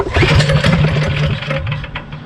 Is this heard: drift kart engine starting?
yes